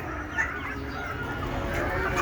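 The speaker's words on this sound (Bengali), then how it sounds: "আপনি দেশি মুরগি পালন করতে পারবেন" Native village chickens cluck faintly amid a dense, steady background hiss.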